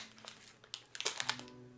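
A Nature Valley granola bar wrapper crinkles in a series of sharp, close crackles that grow busier toward the middle. A low steady hum runs underneath.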